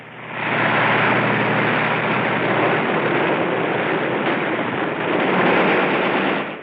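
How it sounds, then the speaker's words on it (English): Heavy machine gun fire from a 1944 Marine attack on an airfield, a dense, loud, continuous roar of bursts and blasts that swells in and holds steady for several seconds. "Another Marine goes out after him in a Jeep under heavy machine gun fire."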